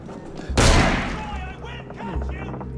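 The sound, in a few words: gunshot in Assassin's Creed Unity video game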